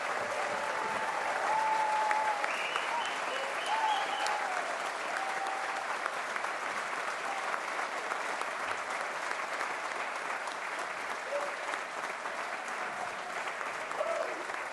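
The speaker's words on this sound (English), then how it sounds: "so we can all give you a big round of applause" Theatre audience at a concert applauding veterans, steady dense clapping held for about fifteen seconds with a few faint voices and cheers mixed in.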